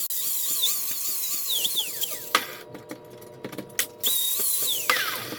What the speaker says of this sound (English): so I'm going to give the edges a good bevel on it